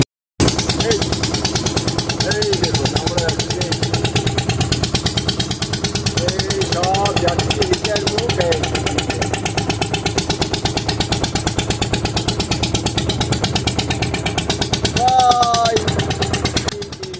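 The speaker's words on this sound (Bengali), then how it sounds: "আমরা এখন বোট রাইড করতে বেরিয়েছি।" A motor boat engine chugs steadily at close range during a boat ride near Layalganj sea beach, a loud rapid pulsing throb with occasional voices over it.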